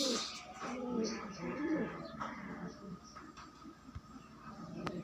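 Pigeons in a coop give low coos and bird calls, close by, under a steady background with a few clicks and thumps.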